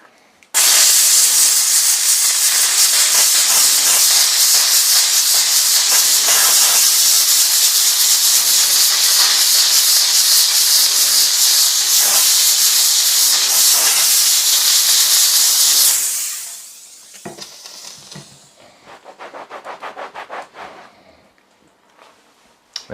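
A Dupray One Plus steam cleaner blasts steam over a seat to lift old hairspray, giving a loud, continuous close-up hiss for about fifteen seconds that then drops to softer, intermittent spurts.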